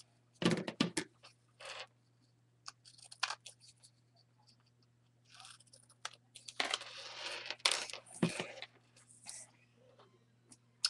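Scissors trimming a paper tag cutout, a scattering of short snips and crisp paper rustles up close, spaced unevenly with quiet gaps between bursts.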